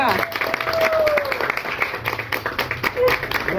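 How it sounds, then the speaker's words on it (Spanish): Church congregation claps in a burst of applause during a sermon, mixed with voices and talk throughout. "Bríndale un fuerte aplauso a Dios"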